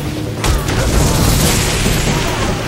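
A level 3 fire spell cast in Fable 2, opening with a heavy booming burst that swells into a roaring, crackling wash of flame, loud and sustained to the end.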